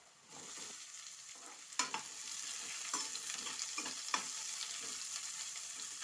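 Chopped onions drop into hot oil for a fenugreek-leaf broad beans curry and sizzle steadily, with a few sharp stirring clatters over a continuous frying hiss.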